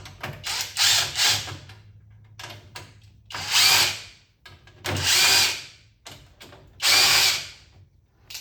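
Power drill driving screws out of the back of a Frogger arcade cabinet, several bursts of close, loud whirring of a few seconds each, separated by short pauses with faint handling clicks.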